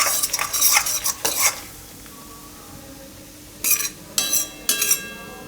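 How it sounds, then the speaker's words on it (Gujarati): Peanuts being stirred and roasted in hot oil in a pan for a Gujarati tomato-peanut curry, with bursts of scraping and soft sizzle, a quiet pause, then three more stirring strokes close by. "તો સિંગદાણા આ રીતના શેકાઈ જવા જોઈએ."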